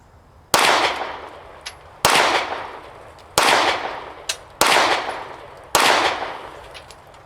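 A Glock 43x pistol fitted with a Taran Tactical spring kit fires at a range, with loud sharp reports spaced over a second apart, each decaying into a ringing tail; five blasts come through clearly.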